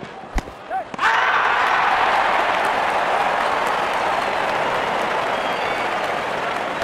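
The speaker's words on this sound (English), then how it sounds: "And there comes the celebration, and the crowd loves it." A stadium crowd in the IPL 2008 cricket video game erupts after a wicket. A couple of sharp clicks give way to a loud, sustained roar of cheering and applause that slowly eases.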